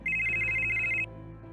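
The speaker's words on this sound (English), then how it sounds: "Phone rings." A telephone rings in a steady electronic trill for about a second, loud and close, over a low background hum, then cuts off.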